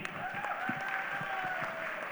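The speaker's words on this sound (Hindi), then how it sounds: "एक बार जूम वालों के लिए भी जोरदार तालियां हो जाए भाई" Audience at a large trading seminar applauding participants joining over Zoom, a steady wash of clapping with an overlapping voice, moderate level and continuous throughout.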